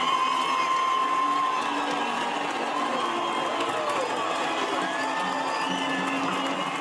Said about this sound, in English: In public, to greet the crowd from a balcony, he received a big ovation.